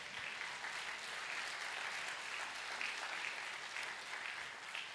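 A church congregation applauds steadily throughout, dense continuous clapping from many hands, moderately loud with no talking.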